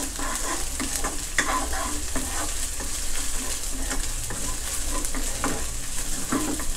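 Chili stir-fried in a little oil for a crispy pork dish gives a steady, close sizzle and crackle, with frequent spatula scrapes and stirring clatter over the continuous frying hiss.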